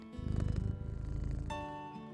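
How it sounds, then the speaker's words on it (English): A pet cat purring close by, a steady low rumbling pulse that rises and falls for a couple of seconds, then gives way to a brighter hum. No voices are heard. "She's purring."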